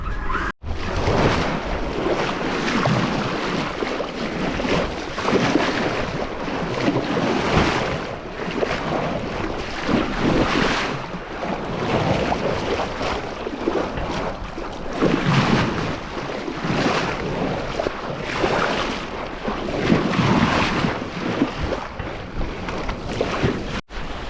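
A sailboat under sail on open sea between St. Lucia and St. Vincent, motor off, moving at about 4 knots: a steady, loud rush of wind and water washing against the hull with rolling surges, no voices.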